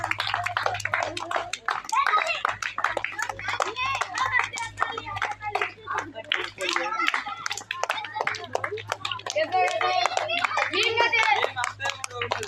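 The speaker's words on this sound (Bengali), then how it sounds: "হাততালি দেন সবাই হাততালি দেন" Children clapping their hands at a girls' rope-skipping game, a crowd of quick, uneven claps running under nearly constant loud chatter and children's voices, the clapping most dense toward the end.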